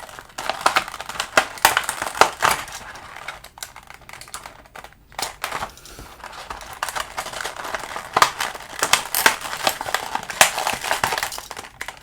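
Stiff plastic packaging from a Kawasaki 900 Super 4/750RS model kit crinkles and crackles in uneven bursts while being handled up close, with short pauses between the rustles.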